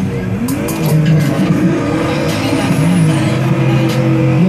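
A BMW drift car at a Latvian drift cup event in Jelgava screams close and loud, its engine rising and falling in pitch as it revs through the run, with tyre noise and a commentator's voice faintly beneath.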